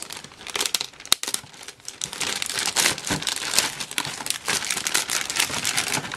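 Plastic packaging around a 1:25 MPC Mack DM600 tractor model kit being slit open and handled, giving a steady run of close crinkling and tearing plastic with one sharp snap near the start.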